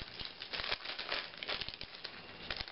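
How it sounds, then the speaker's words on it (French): A stuck package holding a Lush Proprement Vert solid peppermint shampoo bar is pried open, producing continuous close crinkling and crackling of the wrapper with small tearing pops. "Je vais l'ouvrir parce que là, il est collé."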